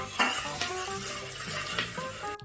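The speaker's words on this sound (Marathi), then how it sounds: "कांदा टाकू, कांदा, लसूण, अद्रक हे आपण व्यवस्थित परतून घ्यायचे" Onion, garlic and ginger sautéing in butter in a pan for pav bhaji, a soft steady sizzle with a few sharp clinks of a utensil against the pan, close and moderately loud, no talking.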